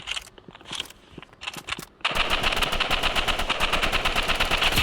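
Rapid automatic gunfire from the shooter game Rivals: a few scattered shots over a quiet start, then a loud, continuous stream of fast, evenly spaced rounds filling the rest of the clip.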